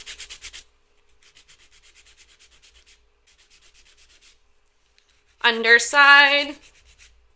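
A file rasps over the tip of a coffin-shaped acrylic nail in short, quick strokes: a burst, then a long run of fainter rhythmic scraping, followed by a brief spoken word.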